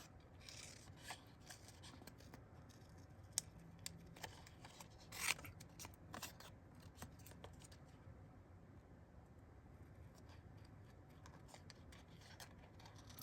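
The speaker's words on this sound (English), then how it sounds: "we're going to cut out just this part" Scissors cut out a paper shape for a layered craft embellishment, giving quiet, close snips and rustling paper rubs in an uneven rhythm over a soft background, with a brief sharper burst partway through.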